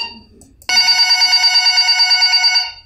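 A toy telephone rings loudly and continuously for about two seconds in a preschool setting, its bright, steady electronic trill pulsing rapidly after a short stretch of quiet room noise.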